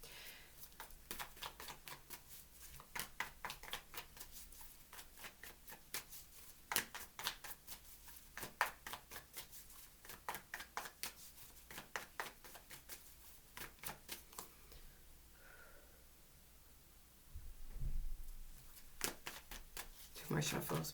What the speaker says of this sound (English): More shuffles, please.